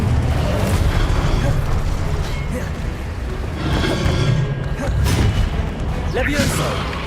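Incendio fire spell cast in the Hogwarts Legacy video game: loud, rumbling whooshes and booming bursts that swell and recede in several waves over seven seconds, with a voice-like layer mixed into the game sound.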